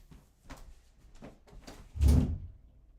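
A door being opened indoors to let a cat in, with a short run of faint footsteps and handling knocks followed by one louder bump near the end, close and alone without talk.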